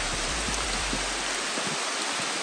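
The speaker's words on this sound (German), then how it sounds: "Man hört es wahrscheinlich, den Regen." Rain falls steadily in a forest, a dense, even hiss of drops with a few faint low thumps underneath and no voices.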